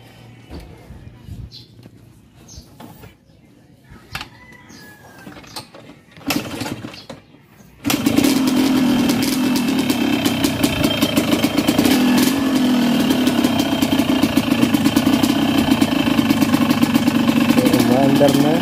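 A restored Yamaha DT125 motorcycle engine starts up after a stretch of quiet handling noises, then runs loud and steady near the microphone, idling with a continuous buzzing throb.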